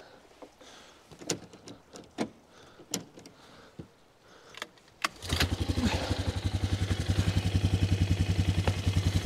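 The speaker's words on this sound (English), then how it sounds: "I've been able to pull start this bike quite a few times." An ATV engine is pull started: a few sharp recoil-pull clicks and scrapes, then the engine catches and settles into a steady, rapid idle putter close by.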